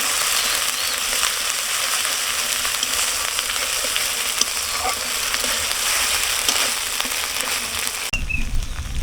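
Spice paste fries in a pan for a shrimp and taro-stem dish, a steady, fairly loud sizzle with occasional small pops and stirring. The frying sound cuts off abruptly near the end.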